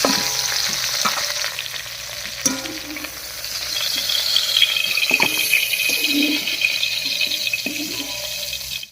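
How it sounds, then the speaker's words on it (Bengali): Pieces of pointed gourd (potol) fry in hot oil with a loud, continuous sizzle and crackle, with occasional knocks of a utensil against the pan. "পটলটা হালকা করে ভেজে নিয়েছি এবার নামিয়ে নিচ্ছি"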